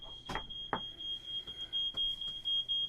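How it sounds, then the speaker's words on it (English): Smoke detectors sound in a room during turkey deep frying, a steady high-pitched alarm tone that pulses in short repeated bursts, with thumps and handling noises interrupting it. "I don't feel like dancing with these goddamn smoke detectors."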